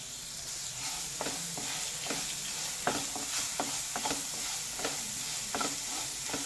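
Grated raw mango and curry leaves being stirred in a pan, a spoon scraping in irregular knocks over a soft continuous sizzle, close and fairly quiet.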